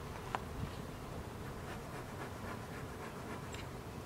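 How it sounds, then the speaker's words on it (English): A honey bee buzzes close by during an early-March hive inspection, its steady hum running through the clip as a faint, continuous drone with a few brief louder passes. "So I had a bee come check me out here."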